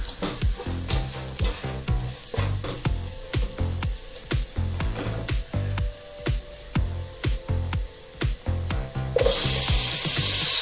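Desiccated coconut fries with curry powder in a pan, giving a constant sizzle broken by regular scraping strokes of a spoon being stirred close up, then a louder hiss near the end.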